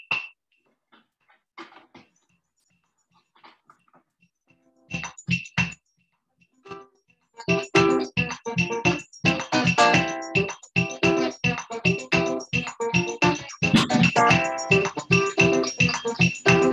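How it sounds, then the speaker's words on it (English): Brazilian baião rhythm of the kind used in forró, beginning with sparse, quiet percussive taps, then building after a few seconds into a loud, dense, steady rhythmic pattern of repeated struck hits that continues to the end. "this is Brazilian baião, which is used in forró"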